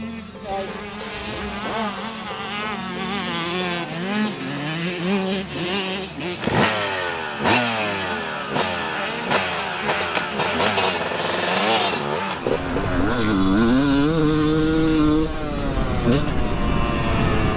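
A factory 250cc two-stroke motocross bike, the machine that won the 1999 world championship, revs hard with a buzzing, high-pitched note that climbs and drops repeatedly before holding a sustained, louder scream.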